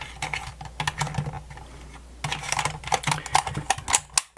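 Small plastic clicks and snaps as batteries go into a Sony WM-FX10 Walkman cassette player, a thrift-store find, with irregular close taps, a pause midway, then a denser run of clicks.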